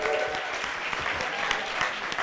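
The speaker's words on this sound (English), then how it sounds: "Come on, give me some round of applause." An audience at a talk on digital influence and politics breaks into steady, dense clapping that fills the whole moment at a moderate level, with no one speaking over it.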